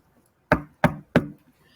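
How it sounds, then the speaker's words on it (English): Three sharp, evenly spaced knocks on a door, close and loud, followed by silence. "He knocked on the door."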